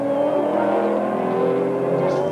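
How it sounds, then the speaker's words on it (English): A 6-litre V8 Mustang race car with a highly tuned motor accelerates hard at Kyalami circuit, its steady rising engine drone loud and sustained with no pauses, the tone climbing gradually as the revs build. "Floors it down, and that's 6 litres of V8 Mustang, very trick motor in that one."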